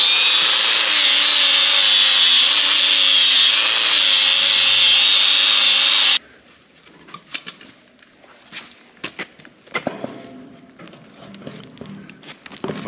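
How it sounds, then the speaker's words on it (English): An angle grinder grinds burrs off the arms of a John Deere combine corn head. It runs loud and steady for about six seconds, then cuts out, leaving scattered knocks and clanks of work. "we need to hit that with the grinder"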